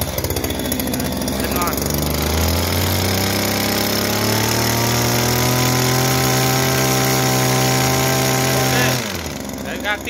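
A Komatsu hedge trimmer engine runs during a test, a loud close two-stroke drone that revs up and holds a high steady pitch, then drops back near the end.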